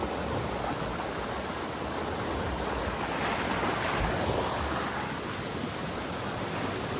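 A river in a Philippine province rushes past, giving a steady, dense wash of flowing water with no pauses.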